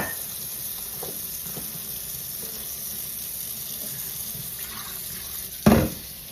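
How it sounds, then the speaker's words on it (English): Tap water runs steadily and softly into a sink as a plant is rinsed, a continuous hiss with a louder splash near the end. "Let it rinse."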